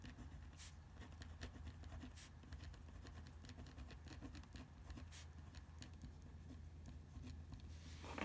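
A pen scratches across paper while a conclusion sentence is written, producing faint, close, irregular strokes and taps in short bursts over a quiet background.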